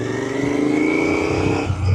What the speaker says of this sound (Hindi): देखो जैसे अभी मैंने फर्स्ट गियर लगाई हुई है, अब मैंने भगाई